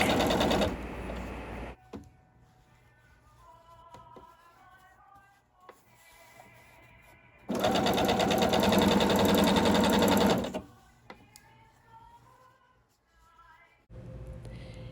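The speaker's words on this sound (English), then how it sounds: "And I'm doing a 1/4 inch seam here." Sewing machine stitching a quarter-inch seam on a bonnet, loud motor whirring in short bursts separated by quieter pauses with soft handling sounds and birdsong.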